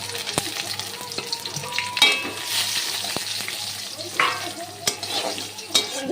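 Fried potatoes tossed into oil tempered with bay leaf, five-spice and dried chilli for a shrimp and pumpkin-greens dish, sizzling steadily while a spatula scrapes and clacks against the pan at intervals.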